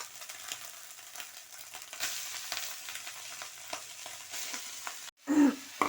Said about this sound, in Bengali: এবার আমি নারকেলটা একটু ভাজা হোক